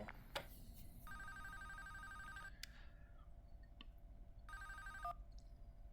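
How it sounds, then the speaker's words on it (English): A phone rings in the video game Fazbear Storage, with two separate electronic ring bursts, each about a second long, separated by a pause. The rings are moderately loud over a low background hum, and nobody speaks. "Phone call."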